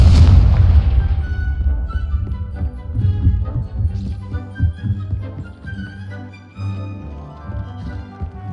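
Confringo fire blast spell in Hogwarts Legacy: heavy booming impacts and rumbling low throbs, loud and close, with a few fainter bursts following, no voices.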